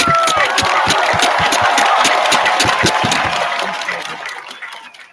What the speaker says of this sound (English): Can we please give all the coaches a big round of applause?